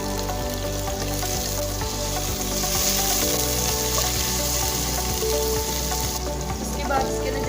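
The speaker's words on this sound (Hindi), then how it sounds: "तो अब हम इसके अंदर अदरक लहसुन का पेस्ट डालेंगे" Light brown onions fry in a pan as ginger garlic paste goes in for mutton palak, giving a steady, close, dense sizzle with faint stirring clinks.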